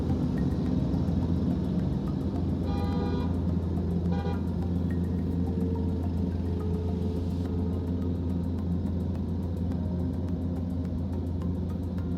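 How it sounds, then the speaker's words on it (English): A car horn sounds in two short toots amid steady low traffic rumble on a Brooklyn street, heard from inside a vehicle stopped at a red light on Bedford Avenue. "I don't know why this guy was honking behind me."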